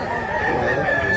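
A rooster's drawn-out crow rises over a busy chicken market in Mantalungon, Cebu, a brief steady call heard up close against a background murmur.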